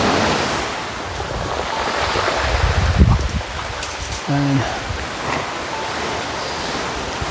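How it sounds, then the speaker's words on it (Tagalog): Strong sea waves crash and surge on the shore in a constant roar mixed with wind buffeting the microphone, with someone speaking briefly over the surf. "Malakas ang alon ng dagat ngayon, oh."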